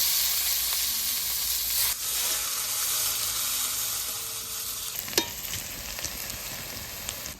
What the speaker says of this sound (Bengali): এবার কুচনো পেঁয়াজগুলো দিয়ে দেবো।